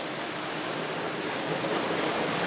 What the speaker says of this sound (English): Fresh spring water from the mountains.